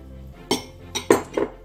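Eggs and salt whisked together in a bowl for quick Turkish bread dough, giving a few separate clinks and scrapes of utensil against the bowl, close and fairly loud, with no talking.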